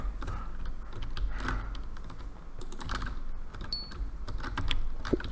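Close, steady typing on a computer keyboard during a Minecraft Skywars session, with rapid irregular key clicks continuing throughout and no talking.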